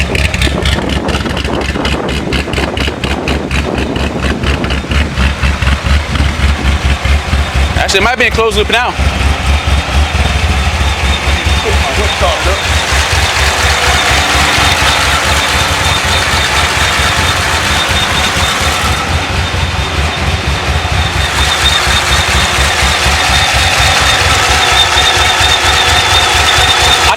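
A Corvette C6 Z06 engine with new heads and cam idles through its stock exhaust, a steady loud rumble that runs throughout while people talk over it.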